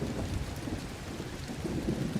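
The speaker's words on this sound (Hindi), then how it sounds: "चौथे दिन भयानक बारिश हुई।" Heavy rain with rumbling thunder as a storm sound effect, a dense continuous roar of rainfall under a deep low rumble, steady and loud throughout without any voice.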